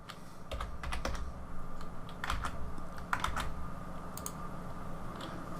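Computer keyboard typing, quick bursts of close, crisp key clicks with short pauses between groups, alone and with no voices.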